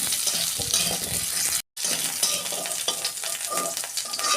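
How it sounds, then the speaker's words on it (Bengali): Cooked potatoes fry in oil in a pan with a loud, continuous sizzle, and stirring scrapes and clinks run through it. The sound stops briefly once partway through. "এই রান্না আলুটা ভেজে নিচ্ছি একটু, এটা অল্প ভেজে নেবো, বেশি ভাজবো না।"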